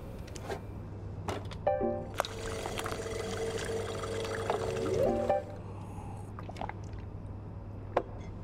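Coffee pours into a cup in Cyberpunk 2077, a short liquid stream over a low steady hum, framed by a few soft clicks and clatters.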